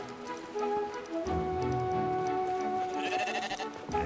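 Sheep bleat repeatedly over light background music and ticking effects in the video game Brothers: A Tale of Two Sons Remake, with several drawn-out, fairly close calls.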